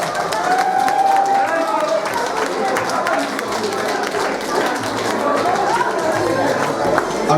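Wedding guests at a Polish reception applaud during the oczepiny games, a dense, continuous wash of clapping mixed with crowd chatter and voices throughout.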